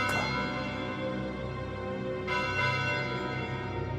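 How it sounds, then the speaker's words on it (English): A bell rings in a long, resonant toll, with a second strike midway that blooms over the lingering hum, rich and sustained with no voices present. "The bell simply rang."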